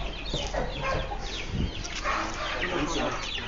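Four-week-old Goliath broiler chickens clucking in a busy cage-farm coop in Africa, a steady mix of soft clucks and chatter with some background voices and noise.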